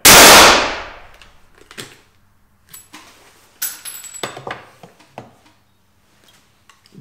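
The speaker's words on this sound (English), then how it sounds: "Case comes out, new round goes in" A Blaser K95 single-shot rifle being reloaded: the loud tail of a shot at the start, then a spent case coming out and a new round going in, heard as a scattered series of sharp metallic clicks and clacks, close and alone.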